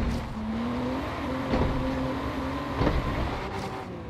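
Race car engine in a racing video game, a steady mid-pitched drone that rises and shifts through gear changes, with a couple of brief bumps or knocks, heard alone without talk.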